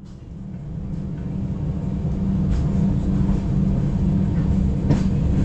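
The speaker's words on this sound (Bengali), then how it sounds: "আমাদের ট্রেনটা যাচ্ছে চেন্নাই সেন্ট্রাল লাইন দিয়ে" SMVT Bengaluru–Howrah Duronto Express running, heard from inside the coach as a loud, steady low rumble of wheels on rail, with a couple of faint clicks over the constant roar.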